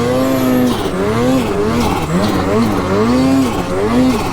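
A lightweight 175 Ski-Doo snowmobile being ridden makes a loud, continuous engine whine close by, its pitch rising and falling as the throttle works up and down.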